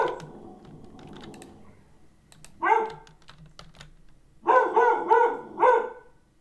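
A dog barks in two bursts near the mic, a single bark followed by a rapid cluster of three or four, with soft key-tapping clatter earlier and between.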